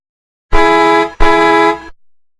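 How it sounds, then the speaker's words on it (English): A car horn honks twice in quick succession, two loud sustained blasts close by with a brief gap between them, alone with no talking. "Hear that honking sound?"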